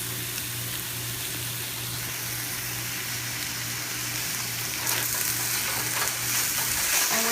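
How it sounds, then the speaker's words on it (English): Chicken sautéing in a pan for pansit bihon, giving a steady, dense sizzle and crackle with a low hum beneath that grows slightly louder toward the end. "we're just going to saute this for a few minutes"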